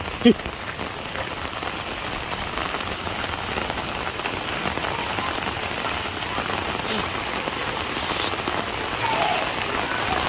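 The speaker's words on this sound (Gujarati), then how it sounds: "તો એક બાજુ વરસાદ ને એક બાજુ આ નાવાનું બધે જામી ગયું છે" Heavy rain pours steadily on a farm, a dense unbroken hiss of drops hitting surfaces, loud and close throughout with a faint knock near the start.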